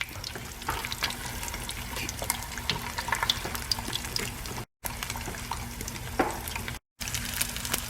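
Frozen preserved eggs fry in a pan on a stovetop, giving a steady, close hiss and crackle of sizzling fat throughout, with a low background hum and two very brief dropouts.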